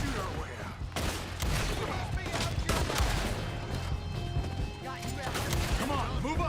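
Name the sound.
gunfire in the Red Dead Redemption 2 video game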